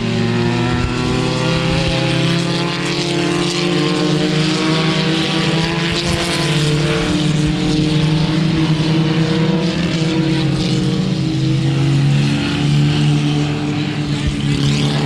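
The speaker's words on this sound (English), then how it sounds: "That's a Formula Mazda powered by a 13B rotary Mazda motor," Formula Mazda race car with a 13B rotary engine, a sustained buzzing high-revving drone with strong harmonic bands, loud and steady for the whole stretch, no talk over it.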